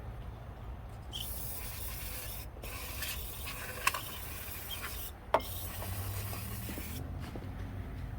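Cleaner sprayed in steady hissing bursts onto a Toyota throttle body, a close continuous rushing spray with brief pauses between squirts and a couple of sharp clicks.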